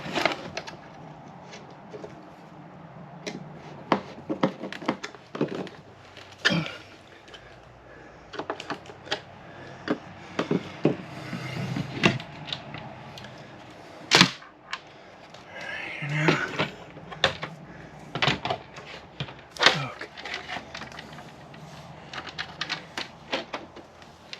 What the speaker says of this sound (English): push the panel back in and put these 4 screws in and put the faceplate back